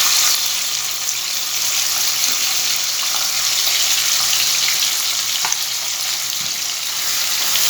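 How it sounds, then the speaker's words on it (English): Chopped onion and tomato sauté in a hot pan with a steady, close, continuous sizzle that does not let up, and no voices. "We'll saute it till it turns translucent."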